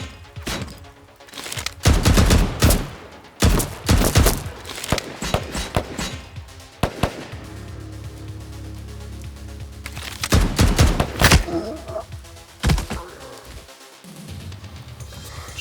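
Dense bursts of gunfire and explosions from the side-scrolling action game Huntdown, loud volleys in irregular clusters with pauses between, punchy booms and rapid shots, no talking.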